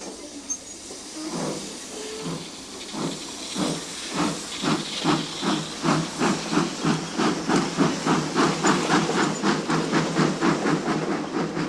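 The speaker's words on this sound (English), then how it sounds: "disappeared in a cloud of steam" A steam engine chuffs with rhythmic bursts of hissing steam that speed up steadily, loud and close, over a constant steamy hiss.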